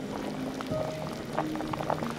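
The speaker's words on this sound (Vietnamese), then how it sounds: "Nấu sôi lên và hớt bọt." Meat stew broth of water and half an onion simmering to a boil in a pot, bubbling and hissing steadily at close range with soft popping and gurgling throughout, no talking.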